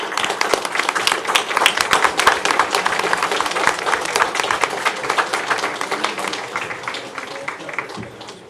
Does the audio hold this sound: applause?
yes